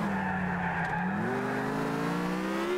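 A car in the video game GTA 4 drives with a steady engine hum and rising revs while its tires skid and squeal, loud and continuous, with no speech.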